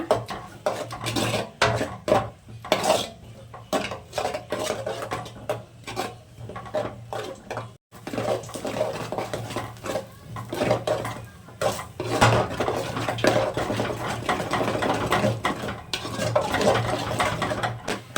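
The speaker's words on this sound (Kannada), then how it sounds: "ನಾಲ್ಕು ನಾಲ್ಕು ಮೊಟ್ಟೆ ಹಾಕೊಂಡಿದ್ದೀನಿ ಸೊ ಇವಾಗ ಇದನ್ನ ಚೆನ್ನಾಗಿ ಹುರ್ಕೊಳ್ಳೋಣ" Four eggs frying and being stirred in a pan for roadside-style egg rice, with steady sizzling under repeated clinks and scrapes of a utensil against the metal, busy and close throughout.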